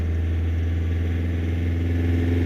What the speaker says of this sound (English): Just rev it up to between 2 to 3 grand.